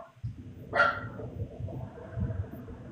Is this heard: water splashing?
no